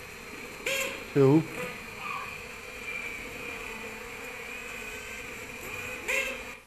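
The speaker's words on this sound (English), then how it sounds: "It sounds loud to us because there's a microphone right next to the dancing bee here." A honeybee's dance signal, picked up by a microphone placed right beside the dancing bee, comes as a short loud buzzing pulse over a steady insect hum, with a person speaking briefly.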